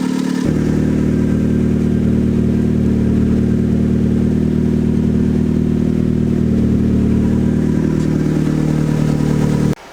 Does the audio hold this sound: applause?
no